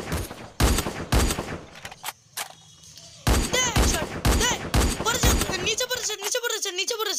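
Rapid gunfire bursts in the video game Free Fire crack in loud close volleys, broken by a short lull, while excited players talk over the shooting.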